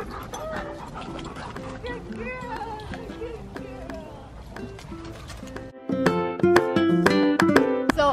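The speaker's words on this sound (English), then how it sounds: "The dogs are going crazy right here." Excited dogs barking at feeding time in a home with several pets, a busy, continuous jumble of yaps and yelps mixed with rattling and other noise, growing louder and denser toward the end.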